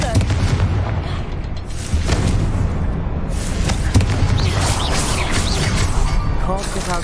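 A Confringo spell explosion in Hogwarts Legacy booms loudly amid a thick, rumbling game soundscape, with heavy blasts near the start and more impacts following, and a voice heard in the mix.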